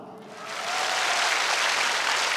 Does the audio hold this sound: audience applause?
yes